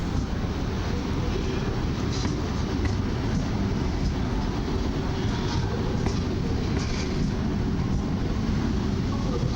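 A Newag Impuls suburban electric train on the S2 line of Warsaw's fast urban rail pulls into a station at night, giving a steady, close rumbling roar with faint squeals and clatter throughout.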